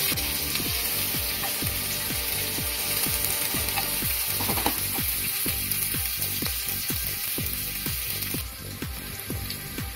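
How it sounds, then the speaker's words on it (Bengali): Onion frying lightly in a pan of hot oil, a steady close sizzle with fine popping crackles running throughout and no voices. "পেঁয়াজটা একটু হালকা ভাজা ভাজা করে নিতে হবে"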